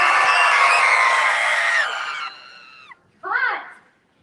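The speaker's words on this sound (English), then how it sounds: "I want everybody to scream as loud as you can" A crowd at the Disney Studios Indiana Jones show screams loudly on cue in a sustained roar of about two seconds that fades out, followed by one short burst of shouting.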